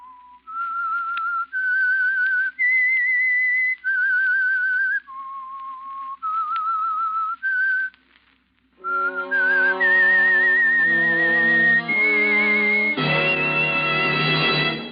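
A whistled theme melody of The Whistler radio mystery program, sponsored by Signal Oil, carried as a clear solo line of sustained notes before being joined by a full orchestra swelling beneath it.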